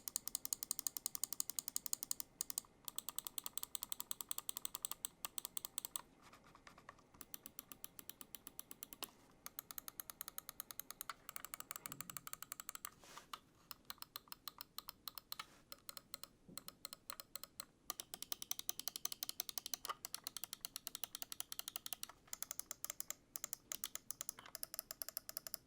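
Ducky Feather and Razer Viper mouse switches click rapidly and steadily up close, with runs of crisp clicks broken by short pauses.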